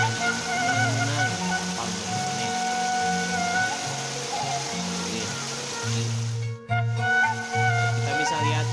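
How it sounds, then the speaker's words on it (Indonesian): Heavy rain falling over a lake during a fishing trip, a dense continuous hiss of drops on water, with a steady tonal hum and faint voices underneath. "Kita bisa lihat cuacanya sangat hujan sekali."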